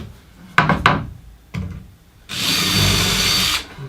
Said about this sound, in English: And pop in a couple of screws. Make sure they countersink in well.